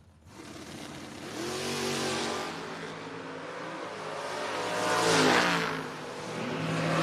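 Campanella Camaro drag race car launching and accelerating hard at a drag strip, its engine note climbing through rising harmonics with a loud surge near the end, steady and close without speech.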